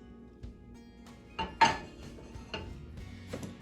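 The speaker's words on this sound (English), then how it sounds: "Give it a little stir" Metal utensil clinks and scrapes against a pan while tofu and vegetables with sauce are stirred for vegan pad thai, a few sharp close knocks between quieter scraping.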